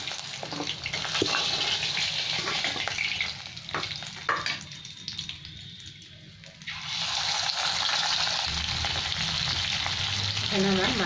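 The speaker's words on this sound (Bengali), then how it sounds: "দই মাছগুলো ভেজে নিই" Pieces of fish for doi maach fry in hot oil with a steady, loud sizzle, briefly dipping quieter in the middle as pieces are turned or added, then crackling back up to full strength.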